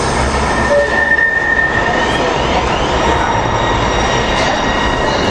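An old Manchester Metrolink tram rumbles steadily nearby at a city stop with a broad low mechanical drone and faint high squeals, continuous throughout with no voices.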